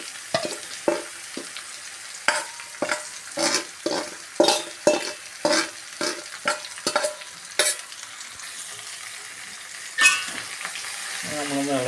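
Okra frying in a pan with salt and turmeric, stirred in a steady run of scraping strokes, each a sharp close swish over a low sizzle, with no talking.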